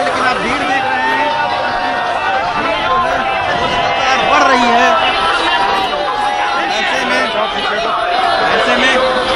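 A crowd of thousands gathered at a political rally in Punjab, a dense steady hubbub of many voices with a spoken voice over it throughout.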